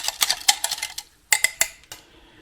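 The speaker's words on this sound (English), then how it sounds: "Get it in and whisk." A whisk rattles quickly against a bowl while mixing psyllium powder, a burst of bright rapid metallic clicks, a brief pause, then a few more sharp taps; no talk.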